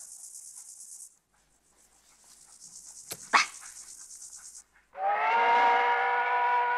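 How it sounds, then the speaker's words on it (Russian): A steam train whistle from an approaching train, sounding as a long, steady high-pitched blast that stops and then returns, interrupted by a sharp thump, followed by a loud, rich harmonic whistle tone. "Поезд идет."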